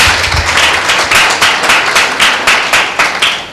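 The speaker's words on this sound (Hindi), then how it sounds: "क्या एक जोरदार ताली दें।" A church congregation at a Tuesday prayer meeting claps loudly in unison, a steady, rhythmic beat of about eight or nine sharp claps close by, with no talking over it.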